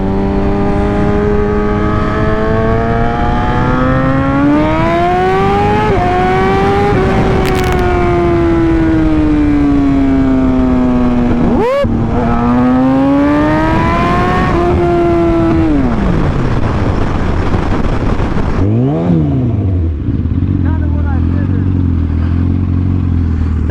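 A Yamaha R1 sport bike engine revs hard and loud, climbing and falling in pitch through several throttle pulls, with a sharp blip near the middle and a lower burbling idle toward the end.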